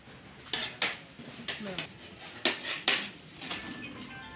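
Rice being folded together with khoya in a cooking pot for mutanjan: irregular metallic clanks and scrapes of a spoon against the pot, about eight distinct knocks at a moderate level over a quiet background.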